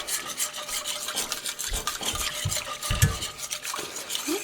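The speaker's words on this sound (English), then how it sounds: "We're just going to whisk this all together and let this kind of simmer a little bit." A whisk scrapes and swirls rapidly through a simmering sauce in a pan, a continuous rhythmic rubbing and clinking with a few heavier knocks against the metal, close and moderately quiet.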